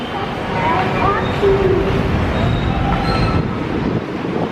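An MRT commuter train in Manila rumbles steadily and loudly, with faint metallic wheel squeals rising now and then, and voices murmuring in the background.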